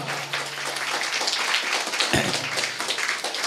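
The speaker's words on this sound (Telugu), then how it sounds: "గట్టిగా చప్పట్లు కొడతాం ప్రభుకి." Church congregation clapping loudly for the Lord, a dense, steady wash of many hands filling the hall throughout.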